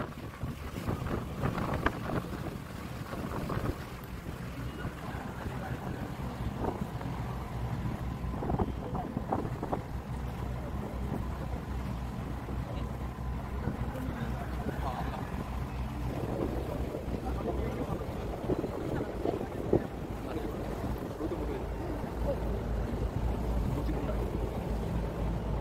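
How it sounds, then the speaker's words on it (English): Boat voyage on the open sea, returning to Cape Town from Seal Island, with steady wind buffeting the microphone and a constant low engine and water rumble throughout. "This is return voyage to Cape Town from Seal Islands."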